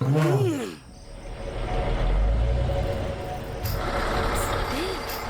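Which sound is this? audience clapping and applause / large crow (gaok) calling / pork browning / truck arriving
truck arriving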